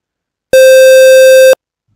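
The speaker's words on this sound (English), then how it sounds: "What happens when we get a sine wave and a square wave?" A synthesized tone mixing a sine wave with a square wave holds steady for about one second: a loud, buzzy, harmonically rich note that starts and stops abruptly, alone with silence before and after.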